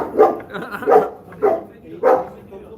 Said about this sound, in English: it's an Istanbul street dog barking.